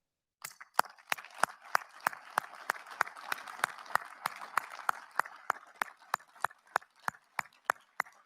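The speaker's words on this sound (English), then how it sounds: "please join me in a thunderous round of applause to thank your parents, families, and friends that helped you get to this day." Cadets at a ring ceremony applaud their parents, families and friends, sharp evenly spaced claps in a steady rhythm with faint crowd noise beneath, moderately distant.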